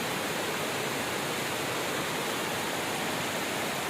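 Dirty flood water, mixed with overflowing drain and sewer water, rushes steadily along a street, a loud, continuous broadband wash with no breaks and no voices.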